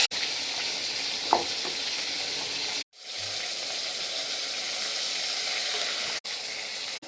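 Chilli paste sizzles steadily in hot oil for a potato curry (aloo dum), a dense, even frying hiss close up, broken by two brief silent gaps.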